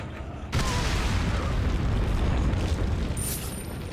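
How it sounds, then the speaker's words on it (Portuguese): A grenade going off in Resident Evil 4: a sudden loud blast hits after half a second and settles into a long, dense rumbling roar, with a faint high whine near the end. "É uma ótima hora pra uma granada, né? Vamos tentar essa aqui que explode."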